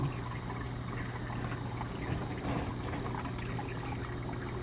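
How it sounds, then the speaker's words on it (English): Water is siphoned from an aquarium sump during gravel cleaning, a faint steady trickle and gurgle over a low continuous hum from tank equipment, with no speech. "Now I'm siphoning out some of the water now, cleaning this gravel out,"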